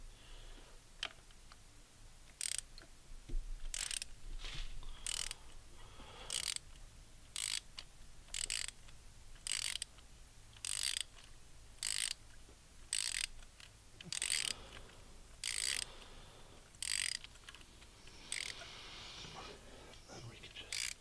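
A ratchet fitted with a 14mm thin wall socket clicks in regular bursts while loosening a spark plug on a BMW N20 engine, with about fifteen evenly spaced runs of close, crisp pawl clicking.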